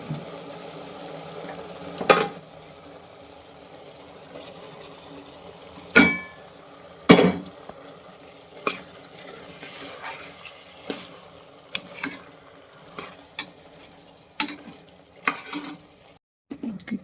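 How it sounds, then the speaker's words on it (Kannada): Food cooking in a pan with salt and water, with soft continuous sizzling and bubbling under several sharp clanks and scrapes of a stirring utensil against the pan, recorded close with no talk. "ಇದಕ್ಕೊಂದು ಸ್ವಲ್ಪ ಉಪ್ಪು ಹಾಕ್ಬಿಟ್ಟು ಚೆನ್ನಾಗಿ ನೀರು ಬಿಡೋ ಥರ ಬೇಯಿಸ್ಬೇಕು"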